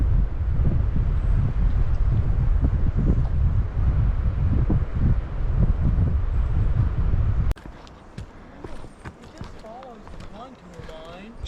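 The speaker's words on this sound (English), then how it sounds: "Another windy day" Strong wind buffets the microphone on a headland by a lighthouse on the central Oregon coast, loud rumbling gusts for most of the clip before dropping off abruptly to quieter background sound.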